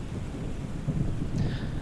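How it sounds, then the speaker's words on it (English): Steady rain falling on Lviv airport in Microsoft Flight Simulator 2020, a dense, even wash of rainfall with a low rumble beneath, continuous throughout with no voices. "Here's Lviv in the rain"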